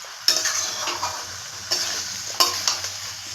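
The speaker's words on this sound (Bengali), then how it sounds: "দিয়ে এবার মশলা দিয়ে অনেকক্ষণ ধরে, প্রায় 8 মিনিট ধরে কষবো" Green jackfruit curry with spices being stir-fried in a pan for a vegetarian dish, a steady oil sizzle broken by three sharp scraping stirs of the spoon, close and loud with no talking.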